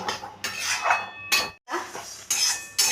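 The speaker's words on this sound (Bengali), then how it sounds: "আমি মুগ ডালটাকে একটু খালি কড়াইতে ভেজে নিচ্ছি" Moong dal dry-roasting in an empty kadai: a steady run of scraping, rattling stirs with short breaks, close and fairly loud, no talk.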